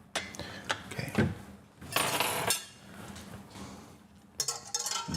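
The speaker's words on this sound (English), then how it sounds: "Now whisk it." Ice cream mixture is whisked in a bowl, giving irregular bursts of metallic clatter and clinking against the bowl, close by with no talking.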